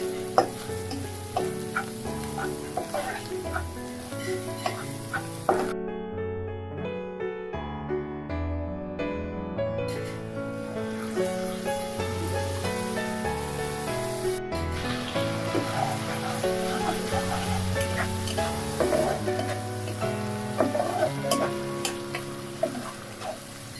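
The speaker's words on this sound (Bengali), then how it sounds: "মশলাটা ভালোভাবে কষিয়ে নিয়েছি" Spice masala with water, salt and sugar being cooked down in a pan for paneer and potato curry, a continuous sizzle with occasional stirring scrapes, partly under background music.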